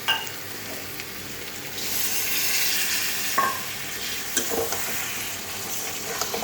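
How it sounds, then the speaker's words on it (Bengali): Pumpkin and fish frying in a spiced pan with a little water added, giving a steady, close sizzle with occasional stirring clinks and no talking. "দিয়ে একটু জল দিয়ে আর একটু ভেজে নেব ভালো করে"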